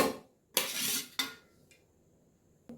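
A lid going onto a pot of simmering fish curry with vegetables: a short rush of clattering metal, then a firm clink as it settles, and one more faint tap after a quiet pause.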